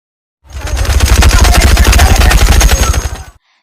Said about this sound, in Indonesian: Ritsu yang semaunya sendiri menembak Koro Sensei secara brutal dikala jam pelajaran berlangsung